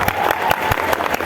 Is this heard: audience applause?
yes